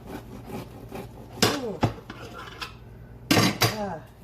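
A knife cuts through a loaf of soft homemade olive oil bread, giving a few sharp, close strokes and clacks against the board amid quieter rustling.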